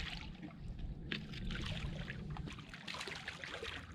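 Water splashing and trickling up close as a fish is handled and released during a winter fishing trip, a steady wet churning with a few sharper splashes.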